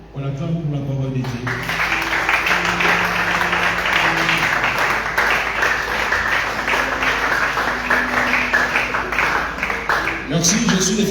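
A church congregation breaks into steady, loud applause that lasts throughout, with voices talking at the start and end around the clapping.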